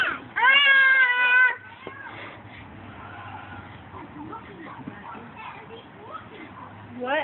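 A young child imitates a cat with a loud, drawn-out meow near the start, followed by quieter talk from a child and an adult over faint background noise.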